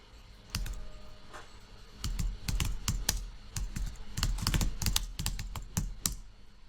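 Fingers type a search on a computer keyboard, quick irregular bursts of key clicks, close and fairly quiet, with short pauses between runs and no one speaking.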